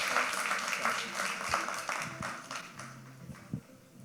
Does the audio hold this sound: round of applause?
yes